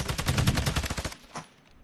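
Rapid gunfire in the video game Warzone 2 fires in a fast, loud burst of repeated shots, then cuts off, leaving one fainter shot.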